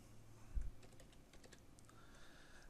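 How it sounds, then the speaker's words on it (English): Quiet typing on a computer keyboard, a short burst of soft, scattered keystrokes heard faintly and alone over low background hiss. "So now I can type in here"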